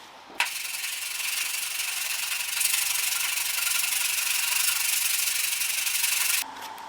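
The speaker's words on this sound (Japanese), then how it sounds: "これが平らになるように全体がねペーパーかかるように削っていきます。" Steady hand sanding with sandpaper across a Caterham Super Seven bonnet, a close, even hissing rub that continues for several seconds before stopping abruptly.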